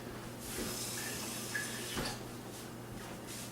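Water is poured from a cup into a pot already holding tamari, garlic, white vinegar and erythritol for a sugar-free chili paste, a steady soft splashing stream lasting a few seconds with a faint clink.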